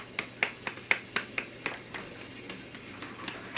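Children in a Christian children's media class clap in a slow, steady series of about a dozen sharp, close hand claps, evenly spaced against a quiet room with a low hum.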